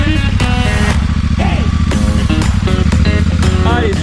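A motorcycle engine idles and revs steadily up close, loud and continuous, as a gear is selected, with people talking over it.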